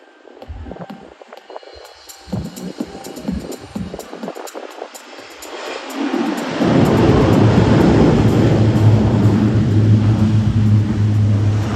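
An aircraft at an airshow touches down and its propellers swing into reverse thrust. Quieter engine drone gives way to a loud, sustained roaring surge that builds and holds to the end.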